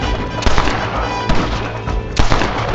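Gunfire in the western game Red Dead Redemption, with three sharp, loud shots spaced about a second apart over steady background noise and rumble.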